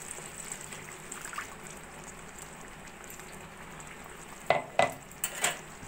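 Chicken rezala cooks over a full flame with a soft, steady simmering hiss. Near the end a few sharp clanks of a utensil against the pot ring out close by.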